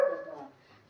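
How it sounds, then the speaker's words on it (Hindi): A German Shepherd gives a single short bark, sharp at the start and fading quickly, heard fairly close but at modest loudness. "वह वीडियो बना रही हूँ करके भौंक रहा है"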